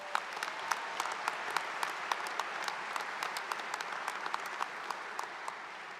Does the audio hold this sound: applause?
yes